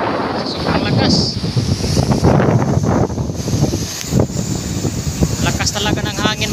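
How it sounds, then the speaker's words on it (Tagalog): Strong gusting southwest monsoon wind in Isabel, Leyte buffets the microphone in a constant roar, with voices talking faintly beneath the rumbling noise. "Lakas talaga ng hangin"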